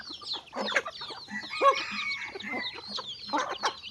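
Chickens on a rural Lao farm cluck continuously at close range, pecking at scattered unhusked rice, with overlapping calls rising in busy bursts and no one talking.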